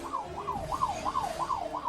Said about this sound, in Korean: 소방차 앰뷸런스 자주 다닙니다.